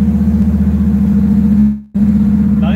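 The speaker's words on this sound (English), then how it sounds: "Nine-second big block car." Nine-second big block drag car engine, a loud close lumpy idle with pulsing firing beats, cutting out briefly near the end before catching again.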